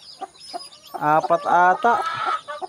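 Chickens cluck nearby in a quick, uneven series of calls, some louder and drawn out, with a short spoken phrase mixed in.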